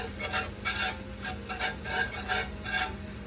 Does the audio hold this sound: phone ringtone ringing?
no